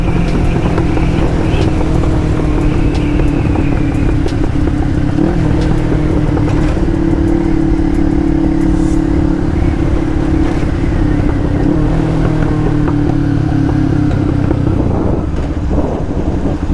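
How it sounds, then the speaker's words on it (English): A parallel twin motorcycle with a custom 2-in-1 exhaust and factory headers drones steadily while riding, a continuous loud engine note mixed with heavy wind buffeting on the microphone. "for a parallel twin, this thing don't actually sound too bad. It's got a custom exhaust."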